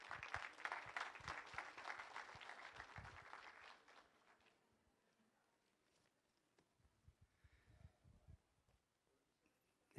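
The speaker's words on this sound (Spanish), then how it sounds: "Lo recibimos con un caluroso aplauso." Audience applause from a crowd welcoming a speaker at a bar association event, loud and dense for about four seconds, then fading to silence with a few scattered footsteps and shuffles.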